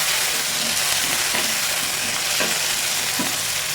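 Onions, green chillies, a small tomato and curry leaves sautéing in a pan for a Kerala dry fish roast, giving a steady close sizzle with occasional soft stirring scrapes and no talking.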